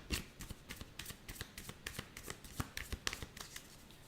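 Tarot cards are shuffled by hand, giving a quick, close run of soft riffling flicks and taps that repeat steadily at low volume.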